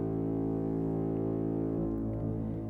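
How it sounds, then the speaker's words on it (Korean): A loud, sustained horn-like blast stands in for a great trumpet sound over Mount Sinai in a children's Bible story, holding steady and then shifting pitch near the end, with no talking. "천둥과 번개가 치고 큰 나팔 소리가 울려 퍼졌어요."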